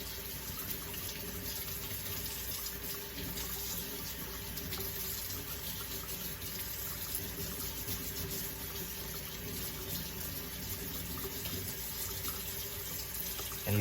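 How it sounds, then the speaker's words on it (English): Tap water runs steadily into a sink while potatoes are rinsed under it, a constant close hiss and splash with no pauses and no talking. "I'm just gonna rinse these off under the water"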